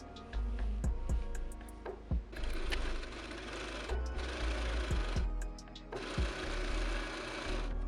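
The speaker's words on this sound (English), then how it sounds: "going to go ahead and stitch this seam allowance down very close to the edge" A sewing machine stitching down a seam allowance close to the edge on a wedding gown, running in steady close bursts with short stops between runs and a faint voice underneath.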